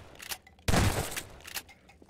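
A shotgun fires once in Half-Life 2, a single loud close blast followed by a brief decaying rumble amid quieter game sounds.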